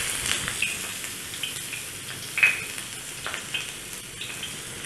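Ginger sizzles in a hot pan for a stir-fry of chicken with fermented soybean, a steady close crackle with scattered sharper pops and spits, no voices over it.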